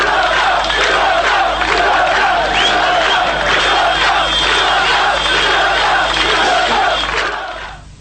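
Angry crowds in Croatia burn Yugoslav flags, a loud, dense roar of many shouting voices with chanting and cries that continues throughout before fading at the end.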